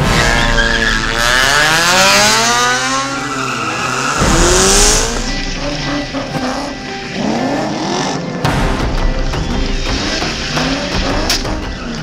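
Cars at the Bozhurishte drag racing strip during a 2011 tuning show: loud engines rev and rise in pitch, with screeching tyres and cars roaring past nearby. The noise is continuous, with no talk.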